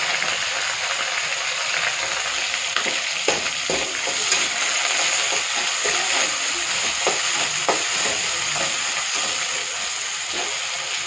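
Curry leaves and small onions frying in hot oil for poondu puli kuzhambu, a dense continuous hiss and crackle heard up close, with faint stirring scrapes and no talking.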